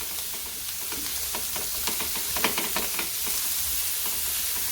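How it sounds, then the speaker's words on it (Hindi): Cabbage stir-fried over a high flame for crispy Chinese kababs: an even hissing sizzle with a burst of rapid tossing and scraping strokes in the middle. "इसको भी हम अच्छे से मिक्स कर लेंगे इनके साथ"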